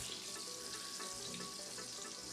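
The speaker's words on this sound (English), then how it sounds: "stir that up a little bit better, make sure the butter gets completely in, or completely melted" Butter melting in a frying pan on a stove, a soft steady sizzle and hiss with faint crackles, quiet and continuous with no talk.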